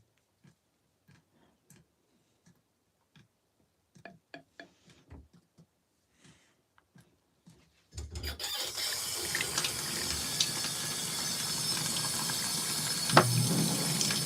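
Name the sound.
LG ThinQ washing machine rinsing cycle with running water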